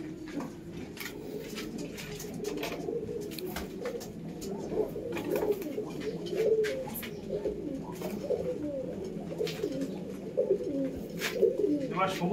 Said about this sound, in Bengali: এবার সবুজ অন্ধ্রা পায়রা দেখাবো।